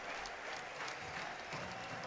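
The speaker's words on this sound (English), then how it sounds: "The crowd finally has something to get on their feet and cheer about." A baseball crowd at a London Majors home game against the Barrie Baycats cheers after a hit, a steady, distant wash of applause and crowd noise with no clear individual voices.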